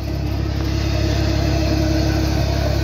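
An MF 135 tractor engine runs steadily at close range during a tractor obstacle-course contest, with a loud, even mechanical drone that holds throughout and no speech over it.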